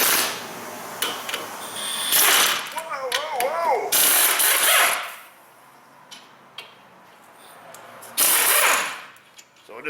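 Ratchet wrench removing the brake caliper bracket on a Toyota Prius during front wheel bearing work, with short bursts of loud clicking ratcheting separated by pauses and metallic clanks, close up.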